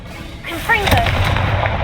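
A Confringo fire spell blasts off in Hogwarts Legacy with a sharp burst of bright, crackling energy that then rumbles and fizzles out over a low background roar.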